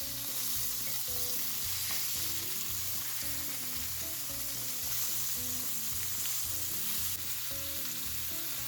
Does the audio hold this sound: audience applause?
no